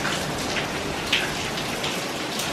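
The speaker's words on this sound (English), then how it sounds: "It's sunny, but raining. Pretty heavy, right? That's so nice. I like the raining sound." Heavy rain pours during a sunny morning on Amelia Island, a dense, even hiss of drops striking surfaces with a few louder splashes, close and continuous with no talking.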